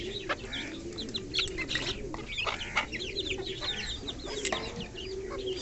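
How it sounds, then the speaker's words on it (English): Pigeons and bantam chickens feed on boiled rice at close range, with soft clucks, coos and chirps over a constant low hum of background noise. "check out these birds. They have already started to attack this boiled rice"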